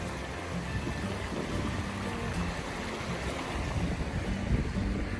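Rushing creek water at a free campsite in West Virginia, a steady, close, broadband roar that runs unbroken from start to finish.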